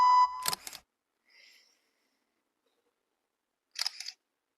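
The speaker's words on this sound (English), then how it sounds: "Camera flash. This is also used widely." A camera shutter sound effect from a phone editing app: a sharp click with a bright flash-like burst near the start, a faint whine in the middle, and a second crisp shutter snap near the end, all without talk.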